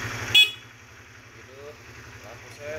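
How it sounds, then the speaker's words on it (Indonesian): Horn of a 2008 Honda CBR 150 motorcycle gives one short sharp honk near the start, then the engine idles with a steady low throb while someone talks nearby. "klakson"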